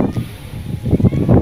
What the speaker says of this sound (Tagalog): Ayan guys, sobrang lakas ng hangin ngayon.